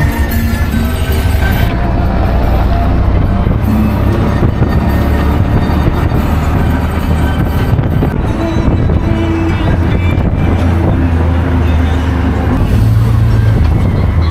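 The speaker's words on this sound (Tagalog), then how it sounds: "Ayan, tricycle tayo." A motorized tricycle ride in the Philippines, with a loud, steady engine rumble and road noise running throughout, close and continuous, with no clear talk over it.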